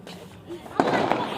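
Fireworks go off near a family home, with two sharp bursts crackling through the second half amid people talking.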